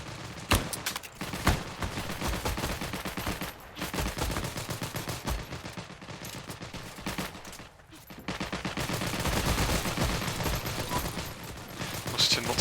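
MG13 machine gun fired in the video game Heroes and Generals, dense rapid bursts of automatic gunfire, loud and close, with short gaps between strings of shots.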